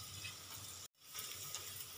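Fried potatoes stir-fried into a spiced masoor lentil curry on a low flame give a steady, soft sizzle close by, with a brief break partway through before the frying hiss returns.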